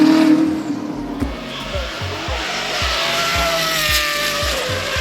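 A Honda Civic Type R FN2 powers up a hill climb course, its engine note rising steadily through the gears with rhythmic shift steps and some tyre noise, loud and continuous without speech.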